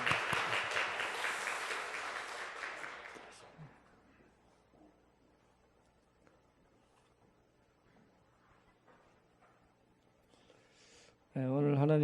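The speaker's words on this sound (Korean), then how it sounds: "격려의 박수 부탁드립니다." A church congregation at a Sunday service applauds warmly for about three seconds before the clapping fades into a quiet room, and a voice then speaks at the end.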